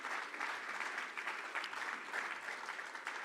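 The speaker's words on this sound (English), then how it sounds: "I would like a hand of applause for these 50 organizations" A conference audience claps in a sustained, even wave for a few seconds, a full room of hands heard at moderate distance with no voices standing out.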